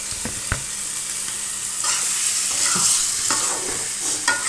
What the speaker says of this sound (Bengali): এবারে আমি মাংসটা দিয়ে দিব। এই যে দিয়ে দিচ্ছি মাংসটা।